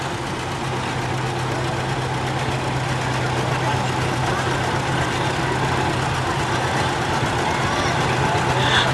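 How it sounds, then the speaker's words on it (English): A John Deere tractor engine runs steadily at a farm picnic, a continuous low droning hum with a constant tone and no pauses, heard close and fairly loud throughout. "there is something always romantic and great about the sound of a John Deere tractor"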